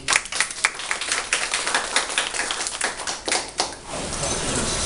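An audience claps after a talk at a machine learning seminar, a dense burst of many hands clapping at close range for several seconds before fading into room noise.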